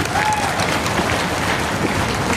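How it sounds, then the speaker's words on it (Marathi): An audience at a public gathering claps loudly and steadily, a dense wash of applause filling the whole short stretch with faint crowd noise beneath. "जोरात टाळ्या वाजवा"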